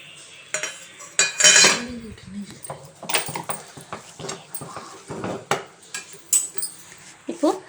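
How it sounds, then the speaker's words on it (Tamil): Ladle scraping and clinking against a pan while moong dal halwa is stirred with ghee, repeated irregular metallic scrapes and knocks at close range, with a dog whimpering faintly in the background. "இப்போது நெய் கொஞ்சம் கொஞ்சமாக விட்டு கிண்டிகிட்டே வருங்க"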